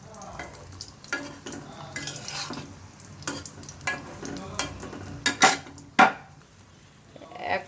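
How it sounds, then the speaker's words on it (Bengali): A Mughlai paratha made with mung dal, egg and ghee fries in a pan, giving a soft steady sizzle broken by irregular scraping and clattering hits of a spatula against the pan. "পাশে সুন্দর করে আগে ভেজে নেব তারপরে কিন্তু আমি উল্টিয়ে দেব"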